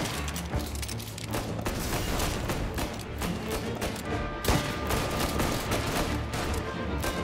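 Gunfire in the video game Mafia: Definitive Edition, a steady barrage of rapid shots and thumps filling the whole stretch at a loud, dense level, with layered game noise underneath.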